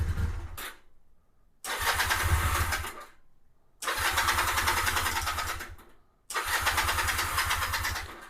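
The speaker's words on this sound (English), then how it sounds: "turn the key on, and I'll hit the choke. And we'll just see if it'll go." A 2009 Honda Rebel 250 motorcycle with its choke on is cranked in three separate bursts with short silent gaps between them. Each attempt gives a close, buzzing, sputtering engine sound that then fades out.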